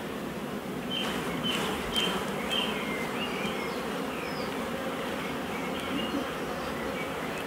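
A loud, steady hum of honey bees swarms around a capped oilseed rape honey frame, with a brief rise as the frame is shaken near the start and individual bees whining past up close.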